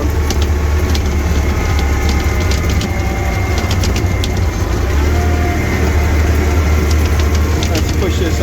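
Snowplow truck on tire chains pushing snow, with a steady loud engine rumble under continuous crunching and scraping and scattered metallic clinks throughout.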